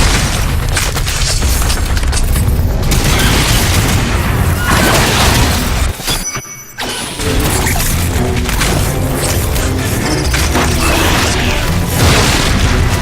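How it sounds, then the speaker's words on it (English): Gunfire and explosions in the video game Lost Planet 3: dense, loud continuous booms, crashes and bursts of shooting, briefly dropping away mid-clip before resuming full force. "Some shooting there."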